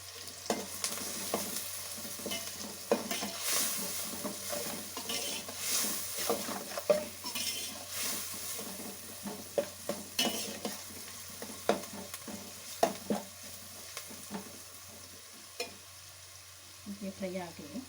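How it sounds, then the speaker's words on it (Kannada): Turmeric powder and spices fry in a pan for a restaurant-style chicken fry, a steady crackling sizzle broken by frequent scraping stirs and clinks of the spoon throughout. "ಹಾಗೆ ಫ್ರೈ ಆಗ್ತಾ ಇರಲಿ."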